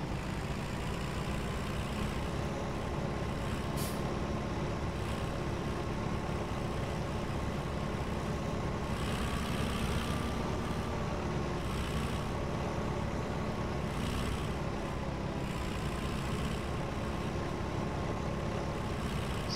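Steady engine drone of a farm vehicle driving in Landwirtschafts-Simulator 17 on a forestry map, a continuous low idling rumble with no break and no talk.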